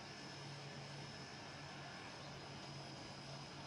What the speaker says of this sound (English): our plane is accelerating very slowly because we are missing 2 engines